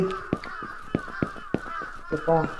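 A crow caws in the Japanese horror video game Akai Onna, a few sharp calls mixed with sudden clicks and thumps, ending in a louder, drawn-out caw, with a voice faintly present.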